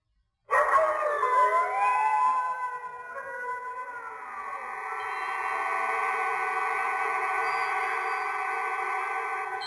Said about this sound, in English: he pointed his nose at the moon and howled long and loud